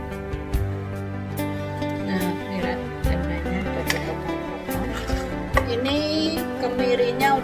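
A knife chops tempe and tofu on a board in a home kitchen with a series of quick, close taps, while a person talks over the cutting.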